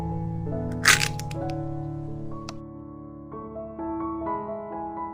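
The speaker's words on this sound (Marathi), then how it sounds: "एका ल्हान बाउलांत एक तांती फोडून घेवया" A single sharp crack as an egg is broken into a small bowl, close and brief, over steady background music.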